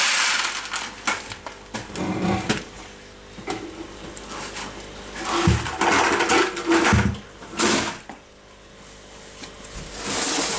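Stones and rocks for a simple cichlid aquarium pour into the tank in several rattling, crunching bursts, with short pauses and quieter clattering between the pours.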